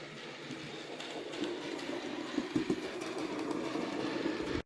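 A 3D printed double coal wagon, an Era 1 industrial-style model, rolls around a model railway layout, giving a steady low rumble with faint clicking wheel beats throughout, close and fairly quiet.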